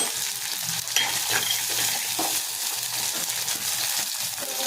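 Onions sizzling and frying in a pan for brinjal thokku, a steady dense sizzle with occasional stirring scrapes, close and continuous, with no voices.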